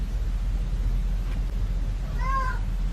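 A cat gives a single short, clear meow near the end, heard over a constant low rumbling background, preceded by quiet noise and no speech.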